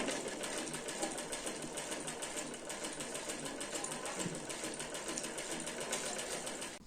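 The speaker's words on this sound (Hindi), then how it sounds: "यहाँ तक सीधी सिलाई लगा के" A sewing machine runs steadily while stitching a straight seam along a shirt's side slit and hem, with a fast, even mechanical whir and needle clatter, close and continuous throughout with no talking.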